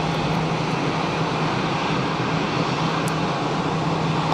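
An Air Algérie Boeing 737-800 at Geneva Airport, heard as a loud, continuous broadband jet roar with no breaks.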